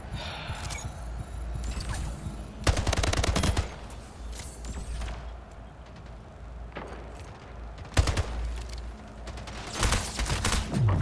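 Rapid bursts of gunfire from the online shooter Splitgate, with dense volleys of shots and mechanical weapon clatter rising and falling over about eleven seconds, loud and close with no talk.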